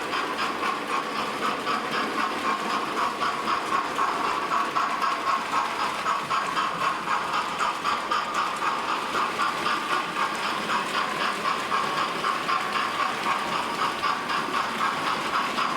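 A weathered Hornby Merchant Navy class model locomotive runs around a short track loop with a steady, even rolling hum and a faint rhythmic clicking of wheels, going on without a break.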